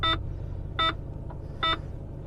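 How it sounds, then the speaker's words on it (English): Three short electronic beeps spaced evenly apart over a steady low engine hum, from a Range Rover P38 engaging low range in snow. "Should beep."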